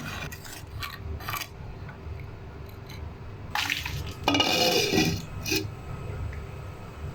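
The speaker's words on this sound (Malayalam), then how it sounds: "ഒന്നുകൂടി ഇളക്കിയതിന് ശേഷം നന്നായി തിളയ്ക്കുന്നതുവരെ വീണ്ടും മൂടി കൊണ്ട് അടച്ചു വയ്ക്കാം" Mackerel chilli curry stirred in a cooking pot, soft scraping and bubbling, then a brief louder clatter as a lid is set on top, close and without talk.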